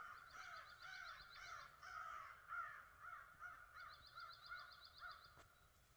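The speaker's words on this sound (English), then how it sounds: "that crow didn't entice him to gobble" Crow cawing in a wooded turkey-hunting setting, with repeated harsh caws in two bursts at moderate distance, other calls faint in the background and no speech.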